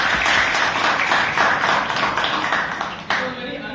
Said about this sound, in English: I want to big round of applause for everyone for making it for the today's meeting